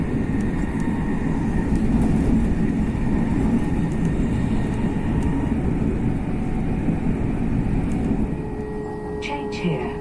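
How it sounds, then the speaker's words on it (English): LNER Class 801 train running past Hitchin on the route from London Kings Cross to York, heard from inside the carriage as a steady broadband roar and rumble with light rattles throughout, easing slightly at the end. "Just about to pass Hitchin."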